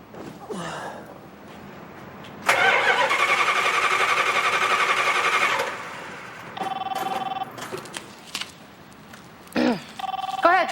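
A rebuilt car engine cranks and turns over, a loud sustained whirring burst lasting a few seconds, with a telephone ringing repeatedly afterward and brief voices around it.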